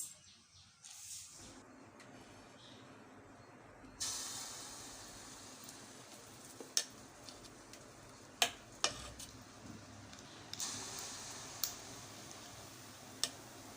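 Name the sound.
sweet appam batter deep frying in hot oil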